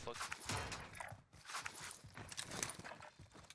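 Footsteps in the shooter Warzone thud in a quick, steady series of steps. They run the whole stretch, close and fairly loud, mixed with other game noise.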